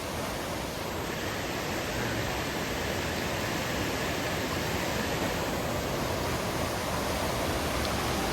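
Water rushes steadily at Khone Phapheng falls in southern Laos, a dense, continuous roar filling the scene without pause.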